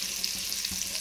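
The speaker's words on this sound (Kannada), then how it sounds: "ಅದರಲ್ಲೇ ಈರುಳ್ಳಿನ ಫ್ರೈ ಮಾಡಿ" Sliced onions fry in oil left over from frying eggs for an egg biryani, a close, steady crackling sizzle with no voices.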